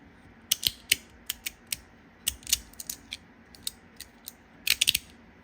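Sharp metallic clicks and snaps from a small metal Verk fidget slider, irregular and close, sometimes in quick bursts of several clicks.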